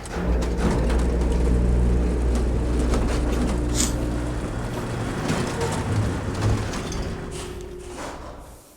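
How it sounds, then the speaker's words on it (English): In the video game Riven, a rail car rides down the track with a loud, steady rumbling drive and low mechanical hum that slowly eases off near the end, with no talk over it. "Right, we'll take our car ride down."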